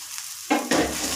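A roti spread with gram flour hits a hot tawa griddle, bursting into a sudden loud sizzle that flares again a moment later and keeps hissing steadily.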